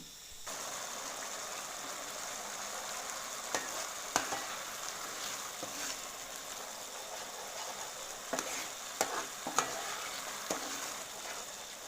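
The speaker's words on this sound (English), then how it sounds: "We'll let it simmer for a few minutes and then our pizza sauce is done." Pizza sauce simmers in a pan for homemade pizza, giving a steady, moderate bubbling hiss with occasional brief pops and clicks, alone without voices.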